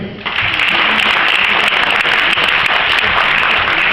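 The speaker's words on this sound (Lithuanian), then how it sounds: "Jūsų plojimai" An audience at a community awards event gives loud, sustained applause, a dense close wash of clapping that starts abruptly and holds steady throughout.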